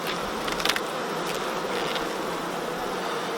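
Honey bees swarm around an opened UK beehive with a queenless colony and laying workers, a loud, constant close-up buzzing drone with a few individual bees flying past the microphone early on, no voices.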